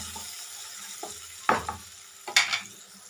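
Lemon rice mixed with peanuts is stirred in a pan, giving a few scraping, rustling strokes with two louder bursts of spoon-on-pan clatter. No voice is heard.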